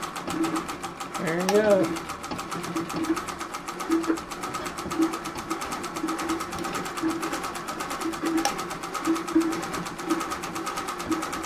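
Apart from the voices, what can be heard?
Singer 201 treadle sewing machine stitching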